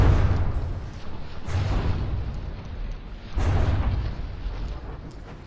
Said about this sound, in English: Curse taking a big strike on the initial volley to its forward turret there.